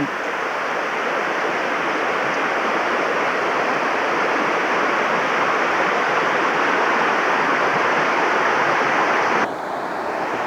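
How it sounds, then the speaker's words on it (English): Steady, dense rushing of a river flowing around a curve near Blue Springs, loud and continuous, dropping slightly in the last second. "This is just the river flowing, taking a curve"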